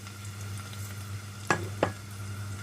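Onion frying in oil in a pan for chickpea pulao, a low steady sizzle with two sharp stirring scrapes close together near the end, with no voices.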